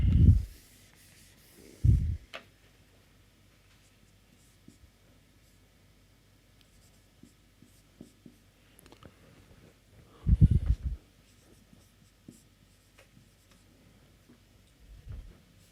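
Equations written on a board during a shock waves lecture produce faint, scratchy strokes in scattered bursts, with a few stronger scrapes and long quiet pauses in between.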